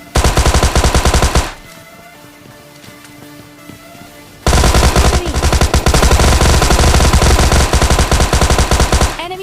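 Rapid automatic gunfire in PUBG Mobile Lite, loud sustained bursts that stop briefly into quieter game ambience, then resume as a long dense volley of close shots.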